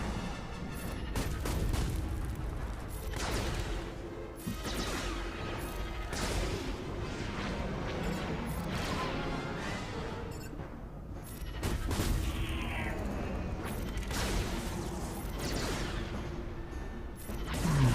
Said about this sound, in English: I'm just trying to set up so that I can call me airstrike for GG